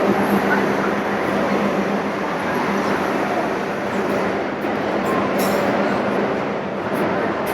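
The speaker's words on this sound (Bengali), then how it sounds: "আমরা এখন ট্রেনে উঠে যাচ্ছি।" An old passenger train in Cluj-Napoca, Romania, gives off a loud, constant rumble and rolling noise that stays steady throughout, close by, with no clear speech.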